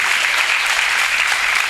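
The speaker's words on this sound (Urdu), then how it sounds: "زوردار تالیاں بجائیے" A church congregation claps loudly together during a sermon on God's eternal mercy, a dense, steady wash of applause with no pauses.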